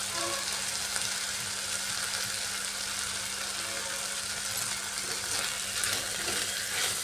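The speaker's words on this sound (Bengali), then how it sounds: "ডাল আর আলুটাকে ভালোভাবে কষিয়ে নিচ্ছি।" Potatoes and mung lentils sauté in a pan with turmeric, coriander, cumin, chili powder and salt, giving a steady, even sizzle that runs throughout without a break and without speech.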